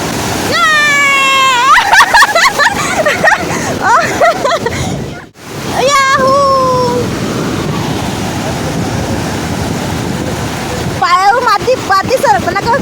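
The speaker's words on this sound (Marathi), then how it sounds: "हे बघ किती मस्त लाट आली बघा" Waves rush and break continuously on a Visakhapatnam beach, loud and close, with excited voices and shouts of people talking over the surf.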